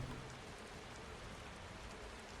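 Steady rain pours down in a video game's backyard, a dense, even hiss of falling drops on surfaces that stays constant throughout with no voices.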